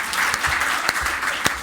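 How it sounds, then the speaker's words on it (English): A crowd at a community talk on technology and resilient communities claps in a short, dense burst of applause, fairly loud and close, with a few sharper individual claps standing out. "Let's give each person a clap."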